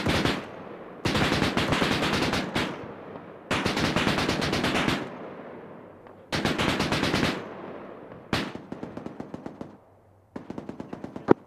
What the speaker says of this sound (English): Artillery shots coming in at Target Alpha